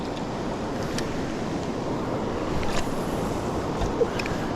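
River water rushes steadily around a rock where someone stands mid-stream on a summer steelhead fishing trip, a constant broadband wash with a few faint splashes.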